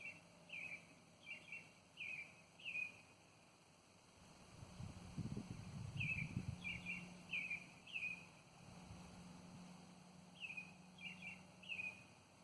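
A songbird beside an outdoor pond repeats short bright phrases in regular bursts, clear over faint wind and a low rumble.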